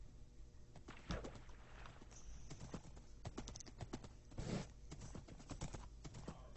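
Horses ridden through a flower biome in a video game, their hooves clip-clopping in a quick, steady rhythm of sharp clicks, with a short neigh partway through.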